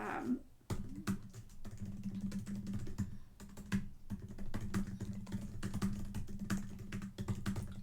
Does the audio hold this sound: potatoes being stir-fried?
no